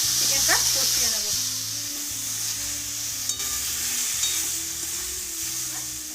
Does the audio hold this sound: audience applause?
no